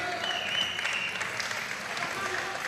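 Steady crowd applause fills the arena at a Magic City pelota playoff after a scored point, dense clapping and cheering with a faint voice underneath.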